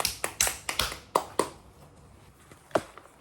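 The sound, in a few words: class clapping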